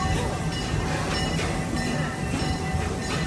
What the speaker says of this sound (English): we currently are pulling into the Nairobi train station.